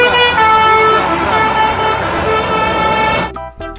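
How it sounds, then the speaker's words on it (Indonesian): A toy Tayo city bus gives a loud, tonal engine drone with a horn-like buzzing quality that holds steady for about three seconds and then cuts off abruptly, with no voices. "Mobil bus kota."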